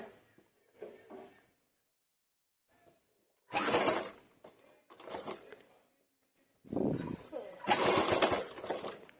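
Sewing machine stitching a pleated puff sleeve for a blouse, running in several short bursts with pauses between, fairly close, while a person talks in between runs.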